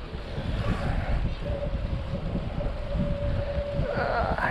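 Steady wind buffeting the microphone with a low rumbling roar, continuous throughout, with a faint tonal hum and a brief voice near the end.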